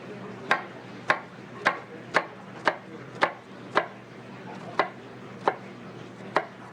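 A knife dices red onion on a cutting board in about eleven crisp, evenly spaced chops, each close and sharp, with nothing else heard between them.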